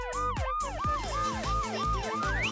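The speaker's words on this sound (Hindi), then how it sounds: "एम्बुलेंस इंतजार कर रहे हैं।" An ambulance siren wails in a steady repeating up-and-down pattern, loud and close, with a brief dropout near the start, within a toy and DIY crafts setting.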